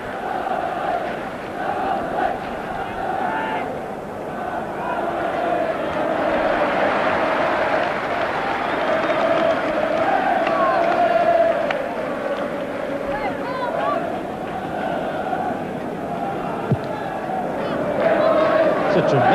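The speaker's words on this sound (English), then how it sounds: "runs back to the applause of the crowd" A football stadium crowd at a 1982 Barnsley versus Burnley match keeps up a steady roar and applause from start to finish, with a match commentator talking over it.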